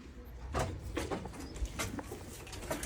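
Lal Pari pigeons cooing softly in a loft, several short low coos in an irregular rhythm over faint background rustle.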